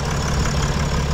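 A Mercedes OM642 3.0 V6 diesel with a leaking injector idles steadily, a low, even rumble heard close and continuous with no voices over it.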